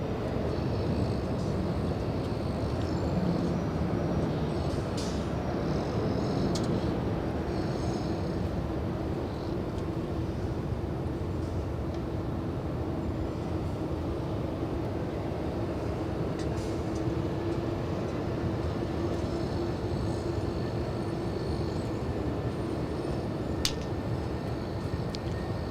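A Boeing 787 Dreamliner lines up on the runway at LAX under a long, steady, distant roar of broadband jet noise with a faint tonal hum, holding level throughout with a few light ticks.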